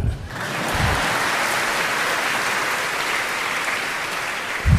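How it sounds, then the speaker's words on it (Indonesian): A campus audience at Gadjah Mada University in Yogyakarta gives a round of steady, loud applause that holds evenly throughout. Short bursts of a speaking voice are heard at the very start and end. "Boleh tepuk tangan."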